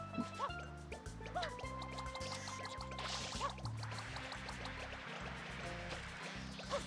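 Mario refills FLUDD's water tank in Super Mario Sunshine, a steady pouring and trickling of water running throughout beneath game music.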